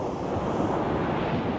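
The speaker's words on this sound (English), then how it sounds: "Ocean!" Ocean surf washes steadily along a shore under a sunrise sky, a continuous broadband roar of breaking waves mixed with gusty wind buffeting the microphone, with no voices.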